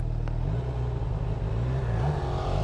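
Car engine droning and rising as a vehicle passes on the road, a steady loud low rumble with a brief pitch swell, heard without talk.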